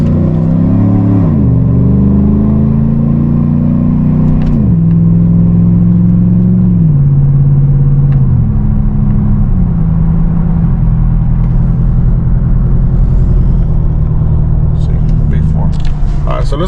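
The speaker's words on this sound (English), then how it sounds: "the sound of the exhaust note when it changes into V4. It gives it like a very burpy sound" Chevy Tahoe V8 exhaust while driving, a loud, deep, burbling drone that rises and falls as the truck shifts and accelerates, with a person talking over it.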